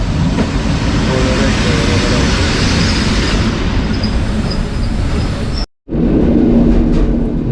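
A train rumbles past loudly and continuously at close range, its heavy roar broken by one brief cutout before it resumes.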